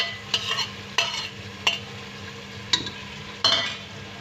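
A masala of ground spices, crushed chillies, coriander and turmeric with tomato and yogurt, stirred in a sizzling pan for kaleji (liver) masala. A spoon scrapes and clinks against the metal at irregular intervals over a steady fry, and no one speaks.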